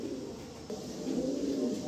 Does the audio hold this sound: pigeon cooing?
yes